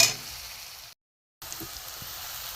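Prawn and pointed gourd kebab masala sautéing in a pan makes a soft, continuous sizzle with faint stirring. A short silent gap breaks it before the sizzle resumes.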